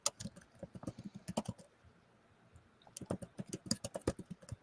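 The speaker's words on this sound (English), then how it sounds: "Listen to that guy type. It's like he uses the keyboard for a living." Fast bursts of keyboard typing, crisp clicks in quick runs with a brief pause in the middle before the rapid tapping resumes.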